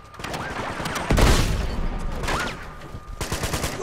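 Gunfire rattles in the Uncharted 2 video game with a loud burst of shots and a boom near the start, followed by scattered bursts amid game noise and some speech.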